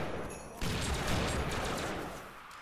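Gunfire breaks out in the Family Guy: Back to the Multiverse video game, a sudden burst of rapid, dense shooting that starts abruptly and carries on loud and close.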